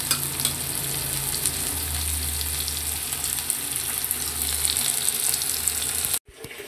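Finely chopped onion and garlic sizzle steadily in a pan, a continuous close crackling fry with faint low rumbling underneath. It stops briefly near the end, then resumes more quietly, and no voices are heard.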